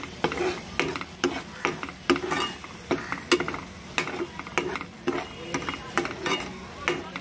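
Fish masala with turmeric and salt stirred in hot oil, a spoon scraping the pan in a steady repeating rhythm over a soft continuous sizzle, with a voice faintly underneath.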